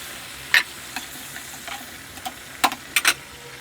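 Spiced radish curry sizzling in a hot pan as hot water goes in, with sharp bursts of hissing and spattering that flare up in short clusters over a low background.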